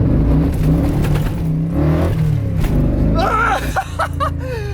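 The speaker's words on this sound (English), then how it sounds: "That was all spin, guys. You hear the wheel hop." A muscle truck with Holley Sniper EFI spins its tires under hard throttle, the engine roaring loud and steady before the note breaks up into choppy wheel-hop bursts toward the end.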